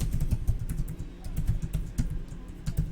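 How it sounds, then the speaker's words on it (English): Rapid typing on a computer keyboard, a close, steady stream of clicky keystrokes with no pauses. "I feel like I'll probably be faster just typing it"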